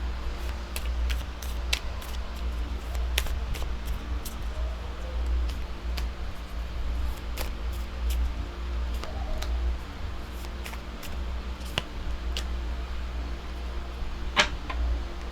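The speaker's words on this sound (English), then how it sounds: "I'm shuffling your cards, by the way." Tarot cards being shuffled by hand, a quiet series of sharp ticks and soft flicks scattered irregularly over a low background hum, close by and with no talking.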